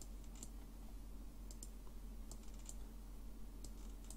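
Quiet, sparse computer keyboard clicks, single taps and short pairs, sit over a steady low hum, faint and close, including a Ctrl+S keystroke.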